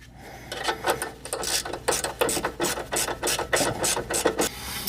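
A fastener on an Airlift Performance 3H height sensor being tightened with a ratchet, a quick series of close, sharp clicking pawl strokes in an uneven rhythm, with no talk.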